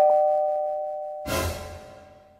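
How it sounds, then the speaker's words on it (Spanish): A two-tone doorbell chime in the Minecraft video game, a clear ding-dong ringing alone and fading, followed by a burst of noisy clatter. "yo no he instalado el timbre"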